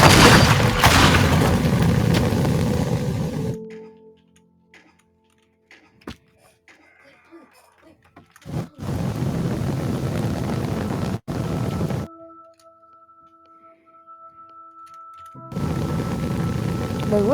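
Bomb explosions tear apart a tower in the Teardown video game: heavy, loud booms with rumbling tails, broken up by sharp cutoffs into near silence and a faint humming tone.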